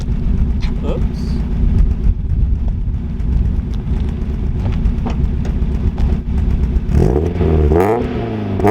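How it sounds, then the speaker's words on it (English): A JDM car with a dual exit exhaust rumbles close by and then revs up toward the end, with someone talking over it throughout. "And this dual exit exhaust, which I don't think sounds too bad."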